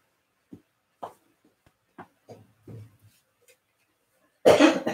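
Someone coughs indoors several times in short, isolated bursts spaced through the quiet, and a louder, harsher burst comes at the end.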